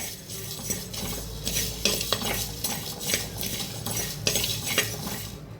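Spices sizzle as they dry-roast in a pan for an amla pachadi, with a metal spoon scraping and clinking in a quick, repeated stirring rhythm. The sound is close and fairly loud, and nobody talks.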